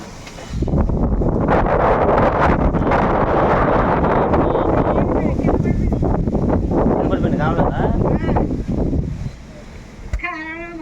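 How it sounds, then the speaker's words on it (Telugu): Loud, roaring wind buffets the microphone in continuous heavy gusts, then briefly eases near the end as a voice speaks. "గాలి బేబచ్చంగా వస్తుంది"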